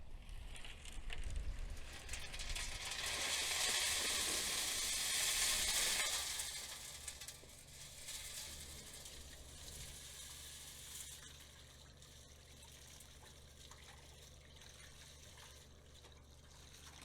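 Rainwater poured out of a hot propane furnace used for melting silver hisses and sizzles loudly at first, then fades into softer bubbling and crackling over several seconds, close by with no talking.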